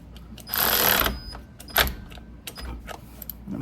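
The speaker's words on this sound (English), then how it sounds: "And from there, I'm gonna use an electric ratchet." A short whirring burst from an electric ratchet snugging a bolt, about half a second long and up close, followed by a quick metallic clink and a few faint handling knocks, with no talking.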